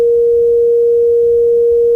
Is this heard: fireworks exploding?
no